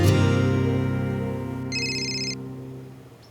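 A mobile phone rings with an incoming call, a bright looping electronic ringtone that is loud and steady at first, then slowly fades, with no one speaking over it.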